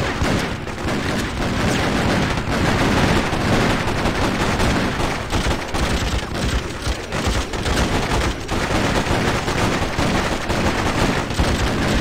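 Sniper gunfire on Liberty Island in the video game Freedom Fighters, loud rapid cracks and overlapping shots crowding together into a continuous barrage with no voices over it.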